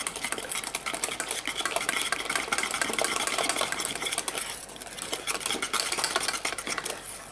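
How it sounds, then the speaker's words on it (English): Lime chocolate pie filling being whisked in a bowl, a steady, busy rapid clatter of the whisk against the bowl that runs continuously and close up, with no talking. "Whisk it up."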